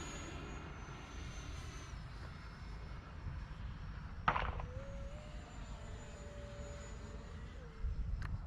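An E-flite Viper RC model jet flying overhead, a distant steady whine with shifting pitch and a sharp transient midway, faint and continuous throughout.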